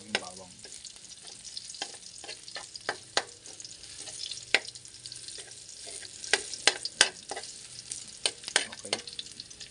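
Garlic sautéing in a hot pan for a Filipino bangus soup, a soft continuous sizzle broken by frequent sharp scraping and stirring clicks of a utensil against the pan, close and fairly quiet.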